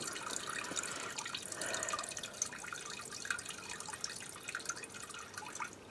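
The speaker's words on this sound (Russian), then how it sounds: "Здесь вот есть специальный клапан забора топлива. Нажатие на него, сливаем остатки топлива с чашки." Fuel drains from a car's fuel filter cup through its drain valve, a faint, steady trickle with small dripping sounds at close range.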